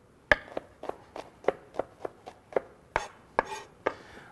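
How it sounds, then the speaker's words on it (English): Garlic cloves being mashed down on a cutting board for arugula chimichurri, a series of about a dozen sharp, close knocks in a steady rhythm, each one brief and distinct, with no talking. "I like to just kind of mash them down a little."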